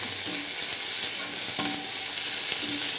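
Curry leaves sauté in a pan for a curry leaf thokku, giving a steady close sizzle with soft scraping stirs throughout and no voices.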